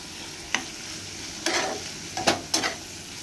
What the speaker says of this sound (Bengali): আর এদিকে মটর পনিরটা কষানো হচ্ছে